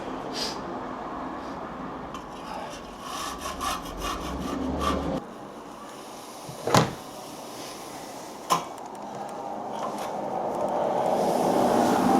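A scraper works crud off a damaged lath and plaster wall in rough, rasping strokes that run unevenly with brief pauses, close and fairly loud, with two sharp knocks partway through.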